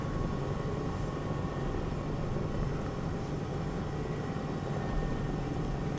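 A Bell 222 helicopter flies in Microsoft Flight Simulator 2024, with a steady, dense rotor and engine drone holding even and constant throughout, with no speech over it.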